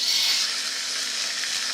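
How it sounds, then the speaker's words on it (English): Continuous bright sizzling and crackling of pot roast meat frying in hot oil, steady and close, with no voices. "If you guys can hear that sizzling,"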